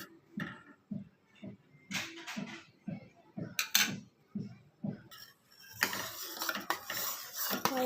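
Metal spoon scraping and clinking against a pot as milk is stirred while boiling down, rhythmic repeated strokes close by, growing into a denser bubbling hiss toward the end.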